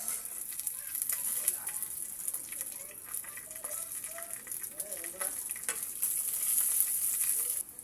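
Small dried anchovies (dilis) frying in oil in a pan, giving a steady, moderately loud sizzle with crackling pops throughout.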